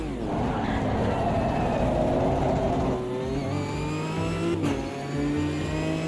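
Racing car on the Brands Hatch Indy circuit in a video game, its mid-pitched engine revving hard and climbing through the gears, loud and close, with a shift in tone partway through the acceleration.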